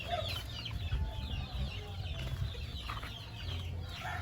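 Gamefowl chickens at a game farm cluck in a steady, low chorus, with a few brief calls rising over the near, continuous hubbub of the flock.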